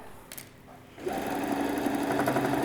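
A sewing machine stitching around a lunch bag, quiet handling at first, then a sustained fast whirring run of stitches close by for the rest of the moment.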